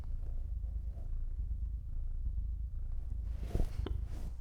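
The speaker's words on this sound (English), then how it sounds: "I can hear him. Arlo's purring" A domestic cat purrs up close in a steady, low continuous rumble, with a few faint background noises near the end.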